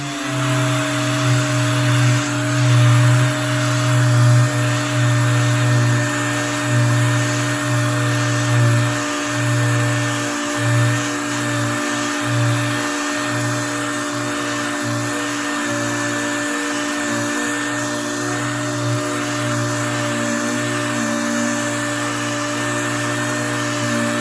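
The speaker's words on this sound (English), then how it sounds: "we start sanding out the scratches" A power sander works over scratches on the door of a Mercedes-Benz A-Class, a steady high-pitched electric whine with a droning hum underneath, running continuously and close by with slight fluctuations in load.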